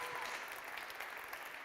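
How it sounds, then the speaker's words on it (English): A short burst of conference audience applause greeting a speaker at a web performance event, dense and even from start to finish, heard from a distance without talk on top. "a giant, loud round of applause, please"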